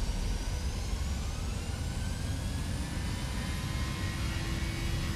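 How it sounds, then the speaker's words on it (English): Steady Boeing 737-700 jet engine roar in a flight simulator game, with a rising high whine, continuous and moderately loud, no voices. "Yeah, we got engine sounds this time."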